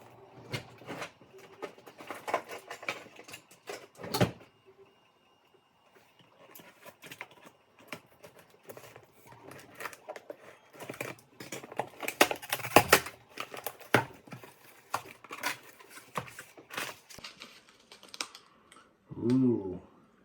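A taped-up wine kit box is opened up close with irregular scratching, tearing and crinkling of tape and cardboard, broken by quiet gaps and a few sharper thumps.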